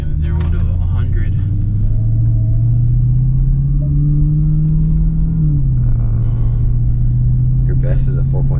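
A Dodge Hellcat accelerating from 0 to 100 fills the cabin with a loud, sustained low engine rumble that climbs in pitch, then drops at a gear shift and builds again.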